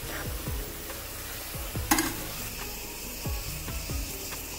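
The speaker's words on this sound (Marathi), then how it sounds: "आता गूळ व्यवस्थित मिक्स करून घेणार आहे." Jaggery is stirred into a raw mango curry in a pan: repeated scraping strokes of a spoon at an uneven rhythm over a soft sizzle, with one sharper clink near the middle.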